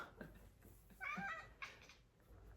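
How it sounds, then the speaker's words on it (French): A house cat meows repeatedly indoors after spotting pigeons, a few short, fairly close cries rising over a quiet room with faint background noise. "Si vous entendez du bruit, c'est mon chat qui a vu des pigeons."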